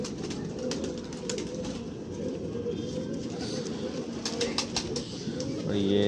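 Pigeons coo in low, repeated throaty calls over a steady background rumble, fairly close and moderately loud.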